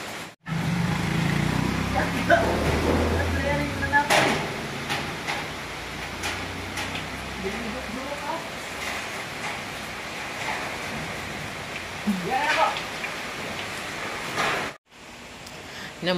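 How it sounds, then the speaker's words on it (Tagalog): Wind blowing outdoors during heavy rain, a continuous broad rushing roar with gusty swells, a few faint background sounds and no talking. "Nya napadyoy hangin."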